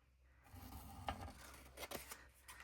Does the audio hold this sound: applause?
no